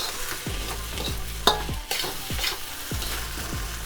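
Fried rice with green onions, soy sauce, butter and garlic sizzles in a pan while a spatula scrapes through it in regular strokes, roughly two per second, close and clear.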